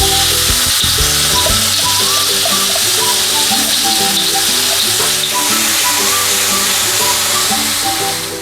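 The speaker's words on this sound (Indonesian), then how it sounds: "bumbu yang sudah kita haluskan dengan chopper tadi kita tumis" A spice paste ground in a chopper is sautéed in hot oil. The sizzle is loud and steady and runs the whole time, with music playing underneath.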